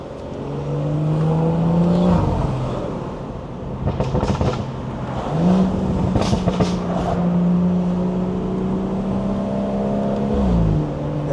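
A B58-engined car revving and accelerating hard, loud close engine drone rising in pitch through long pulls with a shift break between them, tire and wind roar filling in, no speech.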